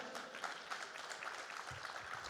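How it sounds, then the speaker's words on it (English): Steady applause from a conference audience at ITServe 2023, a dense, even patter of many hands clapping, somewhat distant and muffled. "Huge round of applause one more time."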